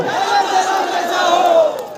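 A large political rally crowd at Aam Bagan, Sakchi, Jamshedpur roars out a loud, unison shouted response, a sustained wall of voices lasting about two seconds.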